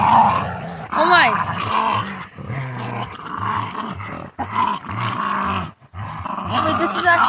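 Several dogs growl and snarl while play fighting, rough bursts of growling and yips close by, with people talking and exclaiming over the scuffle throughout.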